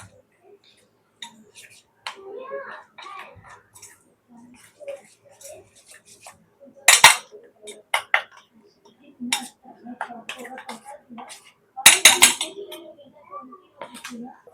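A spoon clinks and scrapes against a bowl while spices are stirred into yogurt, sharp intermittent taps with a few louder clatters, under someone speaking.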